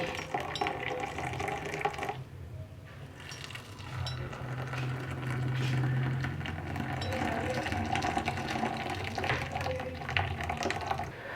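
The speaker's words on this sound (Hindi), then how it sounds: "ये बॉयल हुआ मिल्क है, ये इसमें मैं डालूंगी।" Boiled milk poured from above into coffee makes a steady liquid pouring and splashing stream, with a soft background hum.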